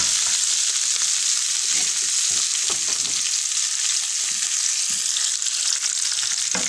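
Finely chopped onions and parsley fry in a pan while being stirred, for sole meunière; a loud, steady, close hiss of sizzling fat runs throughout, with occasional soft scrapes of the spoon.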